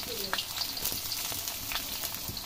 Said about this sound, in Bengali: এর মধ্যে আমি কাঁচা পেঁয়াজ দিয়ে দেব